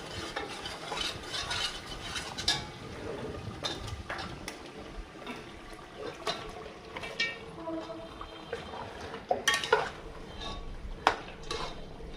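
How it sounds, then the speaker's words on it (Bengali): A spoon stirs and scrapes through spiced duck meat in a cooking pot, with irregular clinks and scrapes against the metal and a faint sizzle under them. The sounds are close and continue for about twelve seconds with no talk. "এবার আমি ভালো করে মাংসটা মিশিয়ে কষাই নেব।"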